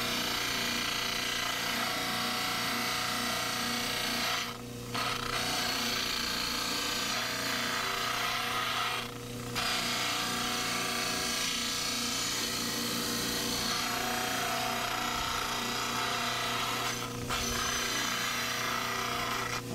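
A model trimmer grinds the vertical walls of a dental stone cast, a loud continuous abrasive whine and rasp that lasts the whole stretch, with brief dips near five, nine and seventeen seconds as the cast is lifted away.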